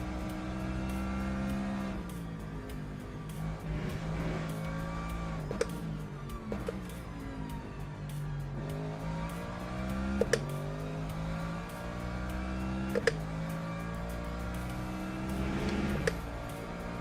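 Race cars in the sim game Le Mans Ultimate, a BMW chasing a Mercedes, whine through rising and falling engine notes as gears shift, with several sharp upshift pops and a steady mechanical drone throughout.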